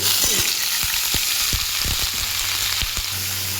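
Ridge gourd frying with garlic in a pan, a loud steady sizzle with occasional clicks of stirring, close and continuous with no voices.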